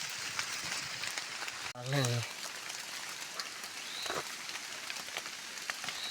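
Rain pattering steadily on foliage in a forest while mushrooms are gathered, a dense hiss of drops throughout with a brief low thump partway and a voice speaking over it.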